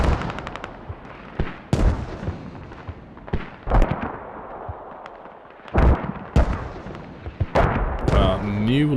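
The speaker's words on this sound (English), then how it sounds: "Everyone watch out, artillery." Artillery fire and explosions during a competitive match of the video game Squad, with several sharp, loud blasts and booms spread irregularly across a rumbling battlefield, and voices talking over the action.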